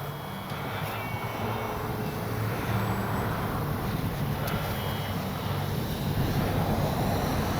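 A Kavan Bristell B-23 RC airplane on its landing approach with flaps up, its motor giving a steady distant drone that holds evenly for several seconds with no talk over it.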